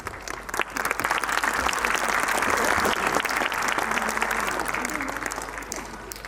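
Audience applause fills a preschool event hall, a dense, steady wash of many hands clapping at once that holds for several seconds before easing slightly at the end.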